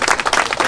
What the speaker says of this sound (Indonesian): kita tepuk tangan untuk mereka nih